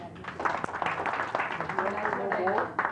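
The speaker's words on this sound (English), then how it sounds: "Round of applause for him" An audience in a financial freedom class giving a round of applause, a steady patter of clapping running under a voice talking over it throughout.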